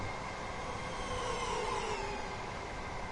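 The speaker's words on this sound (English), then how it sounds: "High speed train." A Southeastern high-speed train in Train Sim World 2 hums steadily, a constant moderate drone with a faint rising whine running through it and no break across three seconds.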